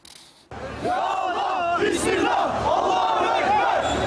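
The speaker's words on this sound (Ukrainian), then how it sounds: "Натовп під голландським консульством у Стамбулі славить Аллаха та звинувачує Голландію у фашизмі" Crowd outside the Dutch consulate in Istanbul chanting praise to Allah, a loud massed roar of shouting voices that bursts in after a brief quiet start and continues strongly.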